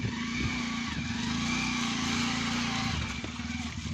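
A light car's engine strains and revs steadily as it works to pull free of thick mud on a village road, loud and continuous, easing off briefly toward the end.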